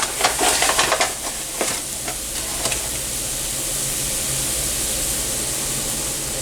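Flour, onions and mushrooms browning in a hot pan for lentil Salisbury steaks, a steady close sizzle with a few stirring scrapes early on, then an even frying hiss running alone to the end.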